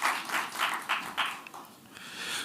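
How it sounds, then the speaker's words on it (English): Conference audience applauding in a few short bursts of clapping at moderate distance, rising and falling over a couple of seconds with no talk. "I think that also deserves a clap."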